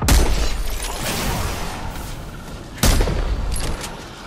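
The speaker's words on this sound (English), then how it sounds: "Getting shot at." Gunfire in Apex Legends erupts in close, rapid bursts: a first volley trails off and a second sharp burst follows a few seconds later, with a dense crackle of shots throughout.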